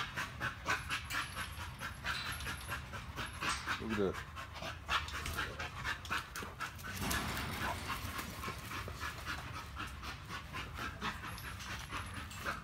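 A kennel dog pants rapidly and rhythmically close by, with a brief whimper partway through, while someone talks over it.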